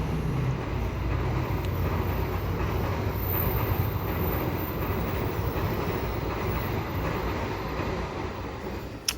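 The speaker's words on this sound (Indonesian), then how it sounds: "Aduh, sebentar teman-teman, ada suara kereta." A train rumbles past on a nearby railway beside a small business, a loud continuous roar and clatter of rail cars lasting throughout with no talk.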